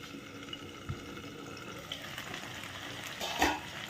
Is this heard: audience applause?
no